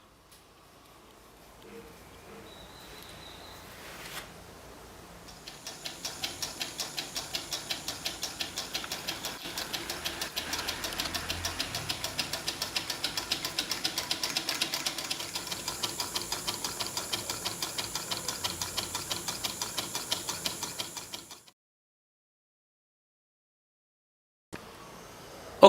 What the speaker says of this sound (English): Finally, our system of piston and cylinder is ready for work.